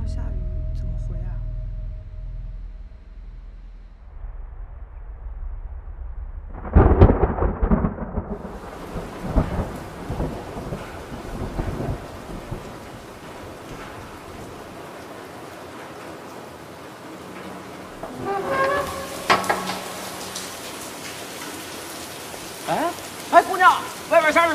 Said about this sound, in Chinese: 外面下着雨呢